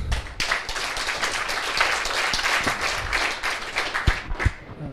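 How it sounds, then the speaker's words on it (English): An audience at a crypto meetup claps for the event sponsors, a moderate, continuous patter of many hands with a few louder individual claps, lasting about five seconds. "please give them a warm applause"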